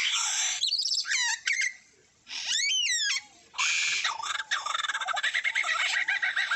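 A lyrebird mimics the calls of other birds, producing a rapid string of sharp chirps, sweeping whistles and trilled notes in bursts separated by brief pauses, clear and close with no voices.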